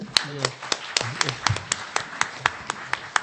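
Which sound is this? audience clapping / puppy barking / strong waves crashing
audience clapping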